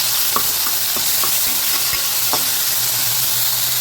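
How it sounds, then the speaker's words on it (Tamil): Tomato and green chilli sautéed in a pan with onion, a loud steady sizzle broken by several spatula scrapes and taps against the metal in the first half. "இப்போ தக்காளி போட்டுடலாம். பச்சை மிளகாய் போட்டுடலாம். அது வதக்கலாம்."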